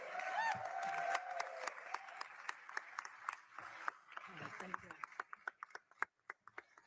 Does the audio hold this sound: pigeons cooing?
no